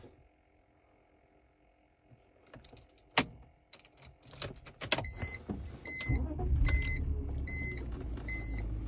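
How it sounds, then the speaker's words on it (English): A car being shut off, with a sharp click and clatter, then a low engine rumble and a repeating electronic chime pattern in the cabin. "Now I'm going to turn the car off."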